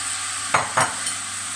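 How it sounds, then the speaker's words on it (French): Meat and onions tossed together in a hot pan with marinade, two short scraping stirs over a steady low sizzle, close and fairly quiet, no talking. "je vais utiliser cette marinade pour faire revenir mes oignons avec la viande"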